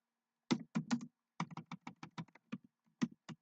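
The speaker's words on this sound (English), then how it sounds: "You can tell I'm used to typing in Word." Someone types on a computer keyboard, close by and alone, in quick bursts of crisp key taps separated by short pauses.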